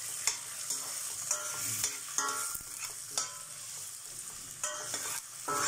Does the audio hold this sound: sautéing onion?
yes